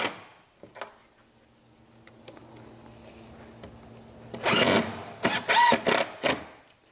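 3/4-inch panhead screws driven into the remaining holes of a steel L bracket on a studio desk, heard as a loud power-driver whir in several close bursts after a quieter stretch of small clicks and handling.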